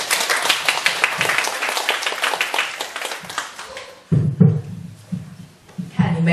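A room full of people at a volunteer-sharing session during a study camp breaks into loud, dense clapping that fades out after about four seconds. Talk and lower scattered sounds follow it.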